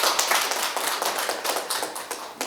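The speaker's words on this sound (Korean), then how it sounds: "긴 시간 진행해 주신 자연환경 국민신탁의 전재경 박사님께 큰 박수" Applause for a moderator at the close of a long panel discussion at an eco-tourism forum, a dense patter of many hands clapping steadily throughout at moderate loudness.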